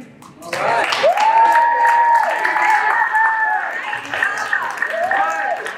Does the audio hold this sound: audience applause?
yes